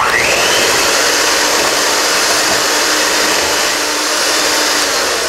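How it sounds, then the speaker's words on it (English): An electric mixer creams butter for cupcake batter, a loud, steady whirring hum that runs close and unbroken throughout. "So I'm just going to cream this butter until it's nice and creamy"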